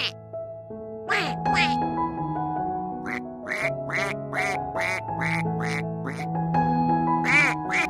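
A mute swan calls in a run of short, nasal, honking notes over a steady musical backing, spaced roughly evenly across the stretch.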